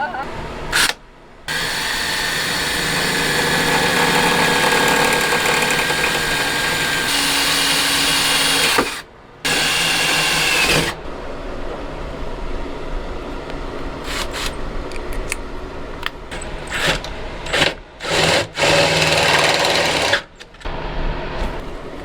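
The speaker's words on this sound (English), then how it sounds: "we'll move on to the 5/16 that I need to drill" A drill whines through a metal running-board bracket on a 2024 Sprinter van in one long sustained run, then a shorter burst, followed by quieter clatter and handling noise.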